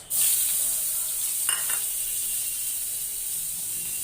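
Chopped onion fries in hot oil with bay leaf, a dried red chilli and nigella seeds, giving a loud, even, hissing sizzle that starts abruptly, with one brief scrape of stirring partway through.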